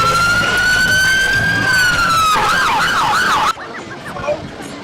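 A loud, close police car siren at a car show, rising in a long wail, then switching to a rapid warbling yelp before cutting out abruptly.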